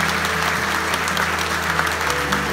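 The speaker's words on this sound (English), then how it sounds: "give her a massive round of applause, please" A live audience applauds motivational speaker Claire Lomas, steady, dense clapping from a large crowd that holds at full strength throughout.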